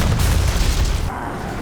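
A deep, loud boom of an in-game explosion rolls out over about a second before cutting off, heavy in the low end.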